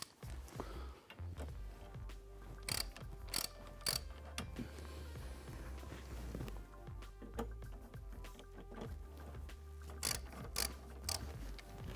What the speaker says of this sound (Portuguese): com o auxílio de uma chave 14 milímetros, nós vamos fazer a quebra do torque desses braços